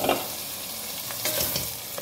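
Rice toasts for a zucchini and wurstel risotto after the soffritto, giving a continuous close sizzle broken by a few quick scraping stir strokes, with no voices.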